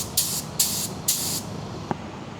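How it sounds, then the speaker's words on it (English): An automotive paint spray gun fires three short, loud hissing test bursts in an even rhythm during a DIY car paint job, followed by a single sharp click. "So we're gonna do a couple of test sprays just to make sure pressure coming out right."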